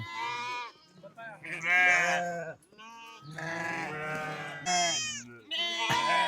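Several goats bleat one after another in long, wavering cries, loud and close, with people talking among them in a desert village setting.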